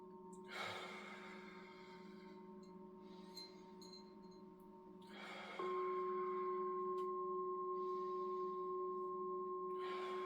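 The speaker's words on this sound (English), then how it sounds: "with every exhale, just relax" Slow breaths from a person in a guided breathing session, two long airy exhales about five seconds apart, soft and close over a steady low drone.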